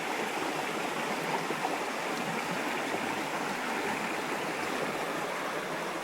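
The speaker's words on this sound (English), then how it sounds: "Now we're really at the river." A river stream flows along the Waimano trail with a steady, loud, uninterrupted rush of water, close by and alone with no voices.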